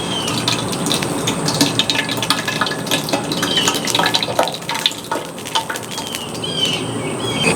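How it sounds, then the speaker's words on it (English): Three jars of Classico marinara sauce glug into a stock pot for meatball subs on a Blackstone griddle, a steady wet pouring and splattering that runs continuously and fairly loud throughout. "we added 3 jars of the Classico Marinara into our sauce pot"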